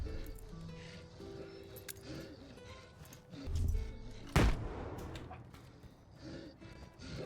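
Gunfire in STALKER 2 crackles through the game's ambience, with one sharp, loud shot standing out midway among fainter background sounds, with no talk.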